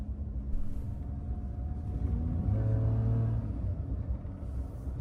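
Car engine revving in a driving game, the pitch rising and falling through downshifts with sharp throttle blips, a loud, close rumbling drone with no talk over it.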